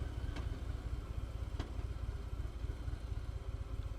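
2018 Harley-Davidson Fat Bob cruising at low revs during break-in, a steady pulsing low engine rumble with wind noise, continuous and fairly quiet, with no talk.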